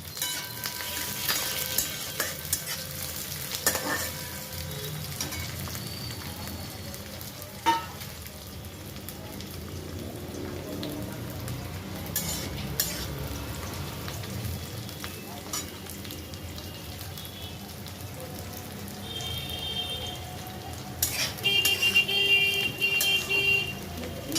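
Chopped onion, ginger and vegetables fry and sizzle in a pan for vegetable momo filling, with a steady crackle and occasional scrapes and taps as they are stirred, close and alone.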